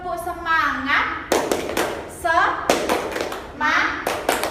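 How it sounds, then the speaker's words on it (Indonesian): A teacher leads a rhythmic spirit clap in a classroom, with short bursts of crisp hand claps between stretches of her chanting voice. "Ibu akan mencontohkan untuk tepuk semangat"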